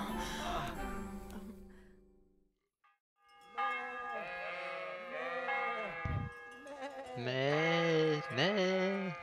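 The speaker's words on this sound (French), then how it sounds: "Ça sonne, c'est l'heure de la messe." Church bells ring for mass in the game Kingdom Come: Deliverance, sustained tonal peals heard mostly at the start, with sheep bleating loudly nearby and covering much of the rest.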